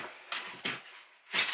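Three short, breathy bursts in a row, like a dog sneezing nearby, each a sharp puff of air separated by brief gaps.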